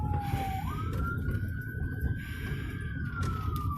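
A police car siren wails in a single long rising and falling tone, loud and close, over the low rumble of the moving vehicle, with no talking.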